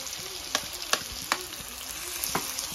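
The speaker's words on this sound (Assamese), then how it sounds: "এতিয়া ভালদৰে ভাজি লওঁ অলপ পিঁয়াজখিনি, অলপ ৰঙচুৱা হোৱালৈকে" Onions frying in a pan until reddish for a local chicken curry, a steady sizzle of oil with several sharp scraping strokes as a spatula stirs them, heard up close.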